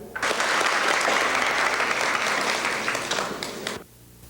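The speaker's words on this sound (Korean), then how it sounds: "연설이 끝나자 박수로서 우리나라가 제안한 세 가지 항목을 환영했습니다" Delegates at an international population conference applaud after a speech, a full, sustained round of clapping that fills the hall, then cuts off sharply near the end.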